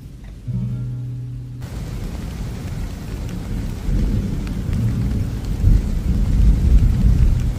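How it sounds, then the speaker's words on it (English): Heavy rain pouring steadily with deep rumbling thunder building and rolling louder toward the end; a brief tone sounds at the very start. "There's a storm moving in."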